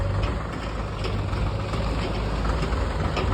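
A tractor engine working its way out of muddy silt, a loud, continuous low rumble with rhythmic knocking close by, no voices heard.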